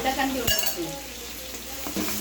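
Chili powder being stirred into sizzling, frying masala for seeraga samba mutton biryani, with a steady hiss and a spoon scraping the pan in a few close strokes.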